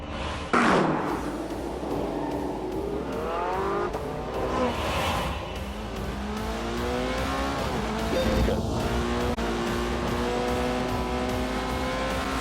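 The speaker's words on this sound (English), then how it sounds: "the McLaren and the Porsche were ready for some shakedown laps" A McLaren and a Porsche lap a track in The Grand Tour video game, their engines whining up and down through gear changes, with a sharp slam near the start and tyre noise, and no talk.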